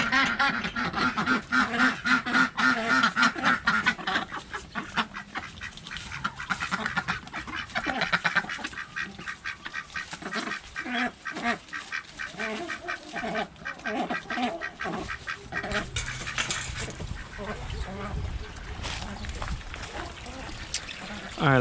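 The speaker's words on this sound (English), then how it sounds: "You'll see my ducks and chickens" Backyard ducks and chickens quack and cluck in busy, overlapping bursts close by, loudest early on, while a person talks intermittently over them.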